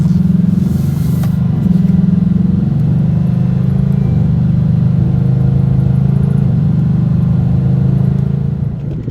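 A Ford Mustang GT V8 driven in sport mode gives a steady, loud low engine drone with slight rises and dips in pitch, heard from inside the car and tapering off at the end.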